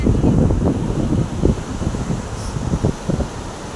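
Rough sea surf with strong wind gusting across the microphone, a continuous loud churn of breaking waves and rumbling turbulence with no voices.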